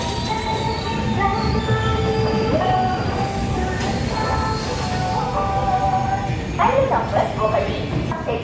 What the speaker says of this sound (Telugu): ఇదేనండి మనం ఎక్కాల్సిన హజ్రత్ నిజాముద్దీన్ వెళ్ళే స్వర్ణ జయంతి ఎక్స్ప్రెస్